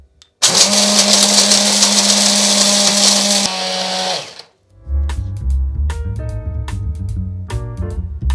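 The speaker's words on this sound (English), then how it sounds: "I usually start with grinding the seeds, hazelnuts and almonds first." A blender grinds seeds, hazelnuts and almonds with a loud, high-pitched whirring roar for about four seconds, then stops and restarts lower as the blades churn through the dry nuts with a heavy rattling grind.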